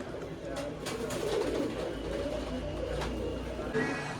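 Low pigeon coos roll through a shop where young birds are kept, repeating softly over steady background noise.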